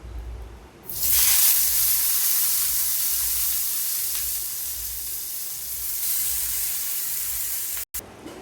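Pumpkin-leaf paturi parcels dropped into hot oil set off a loud, close, steady sizzle and hiss that holds for several seconds, with a brief break near the end.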